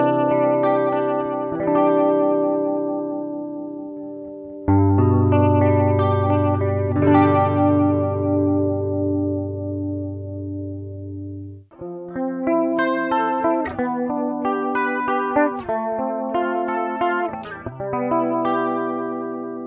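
Electric guitar with humbucker pickups through a Trial Prime Chorus analog pedal, JC-120-style, chords and picked notes ringing with a lush, deep, shimmering chorus, played alone in short phrases with a pause midway.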